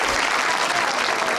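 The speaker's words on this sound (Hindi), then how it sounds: "तालियां इसके लिए" Dense, steady applause from a studio audience on a talk show, filling the whole moment at a loud, even level with no voices over it.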